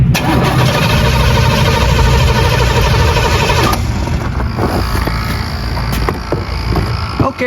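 A 1984 Corvette engine cranks and catches with a loud, rough mechanical churn, then settles into a lumpy idle with uneven pulses, heard up close.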